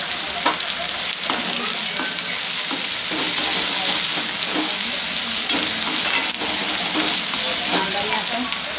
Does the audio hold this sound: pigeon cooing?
no